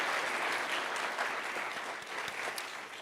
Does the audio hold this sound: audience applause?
yes